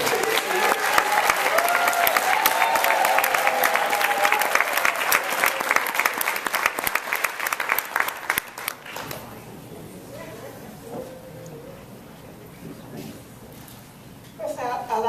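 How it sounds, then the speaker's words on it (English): An audience at an award presentation at a convention center claps enthusiastically for several seconds, then the applause fades out into quieter room noise with faint voices. "Ladies and gentlemen, let's applaud Lenoria Warmack"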